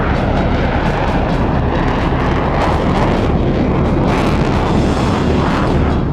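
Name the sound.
US Air Force B-21 Raider bomber on its first test flight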